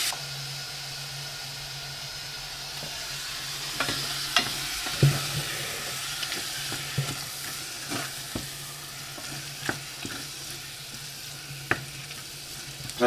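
Minced meat frying in a pot on a stovetop, a steady soft sizzle with occasional sharp clicks and scrapes of stirring over a low constant hum.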